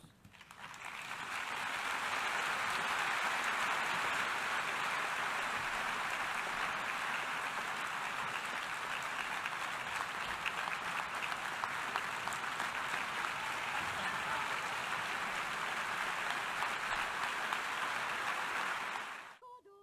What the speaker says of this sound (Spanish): Un mensaje que saludaron con un largo aplauso.